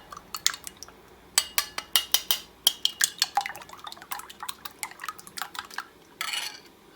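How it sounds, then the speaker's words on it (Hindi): Four raw eggs being beaten in a bowl while making chicken fried rice, a quick run of sharp, close clinking taps of utensil against the bowl in uneven bursts, with no talking. "ये मैंने चारों अंडे इसके अंदर डाल दिए हैं। इसको मैं फेंटूंगी।"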